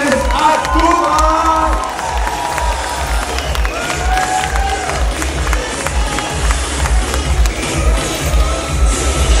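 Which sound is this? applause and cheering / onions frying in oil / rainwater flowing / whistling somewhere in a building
applause and cheering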